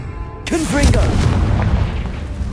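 A Confringo blasting spell in Hogwarts Legacy fires off with a sudden booming explosion, followed by a long rumbling roll of debris that slowly fades.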